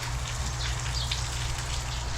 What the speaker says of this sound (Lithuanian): Nu dar vis tiek lyja, bet ne taip stipriai.